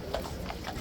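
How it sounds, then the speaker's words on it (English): Police horses in riot gear clip-clop on pavement in a few quick, distinct hoof strikes close by, set against a steady outdoor background. "Police horses again, guys,"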